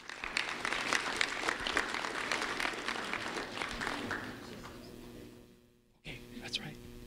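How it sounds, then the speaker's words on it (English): An audience at a community awards event gives a round of applause for an honoree. The clapping is dense and steady, then thins and fades out, and a brief voice follows. "a round of applause for Jaden Doughton,"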